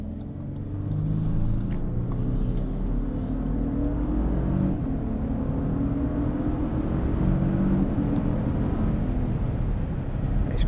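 Lexus LX 700h Overtrail hybrid SUV with twin-turbo V6, accelerating in Sport S Plus mode, gives a steady loud cabin rumble and engine drone with rising tones, continuous throughout with no talking.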